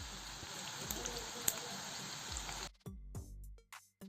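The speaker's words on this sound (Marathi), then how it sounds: "मॅगी दोन्ही बाजूंनी लालसर अशी तळली आहे" Maggi noodles frying in hot oil in a pan give a steady, close crackling sizzle that runs for a few seconds, then cuts off abruptly and leaves a few scattered clinks and thuds.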